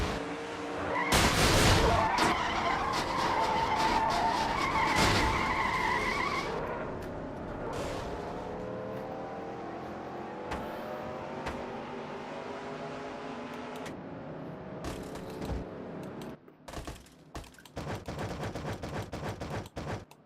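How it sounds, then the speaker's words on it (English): Stock cars crashing at Iowa Speedway in a racing video game: a loud impact and grinding scrape, then engines droning and tires skidding, followed by rattling crunches and more impacts near the end. "So yet another crash happening here at Iowa Speedway."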